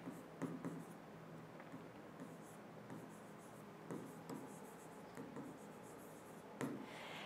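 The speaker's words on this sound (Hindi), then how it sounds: "यहां पे लिख दू क्या मैं इंटरमीडिएट" Marker or chalk writing on a classroom board, faint scattered scratchy strokes and taps spread across a quiet room, with no talk.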